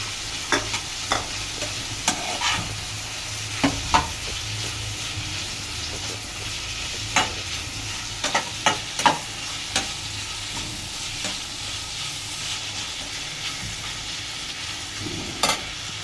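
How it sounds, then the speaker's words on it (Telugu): Small chopped capsicum pieces frying with onion in a pan, a steady close sizzle with repeated sharp scrapes and clinks of a spatula stirring. "ఇప్పుడు మనము క్యాప్సికము చిన్న చిన్న ముక్కలు కట్ చేసుకున్నాం కదా, అది వేసుకున్నాం"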